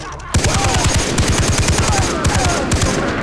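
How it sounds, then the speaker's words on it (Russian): Rapid machine gun fire in the shooter game Far Cry 3, a loud sustained burst of evenly spaced shots running steadily for about three seconds after a brief quiet start. "мы сейчас берем просто пулемет в руки и начинаем та-та-та делать"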